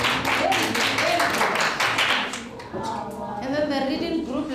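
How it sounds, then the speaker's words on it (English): Schoolchildren clap their hands for themselves in a classroom, a burst of rapid, loud, close claps that fades out into children's voices and a teacher talking. "Clap hands for yourself."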